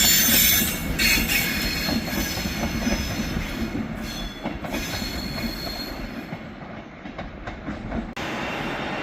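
Passenger train from Glasgow Central to London Euston passing at Carlisle station, with loud wheel squeal and rhythmic rail clatter close by, ending abruptly as the last carriages go past.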